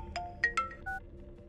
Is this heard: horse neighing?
no